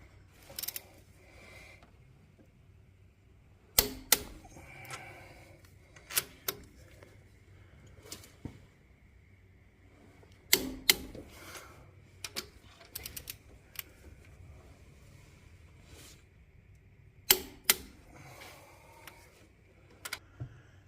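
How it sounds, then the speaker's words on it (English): A torque wrench tightens the head bolts on a Jeep Cherokee 4.0-liter inline-six to 110 pounds of torque. Sharp, dry clicks come in scattered bursts over a quiet background, with no talking. "I went and picked up my torque wrench from the house. Now we can hit that 110 pounds."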